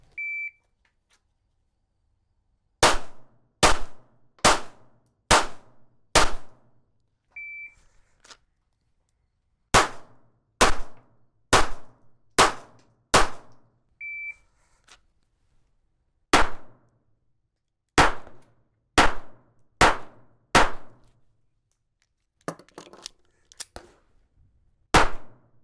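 A Smith & Wesson Bodyguard .380 ACP pistol fires in sharp close bursts of five or so rapid shots, separated by pauses and short electronic timer beeps, ending in a quicker ragged string.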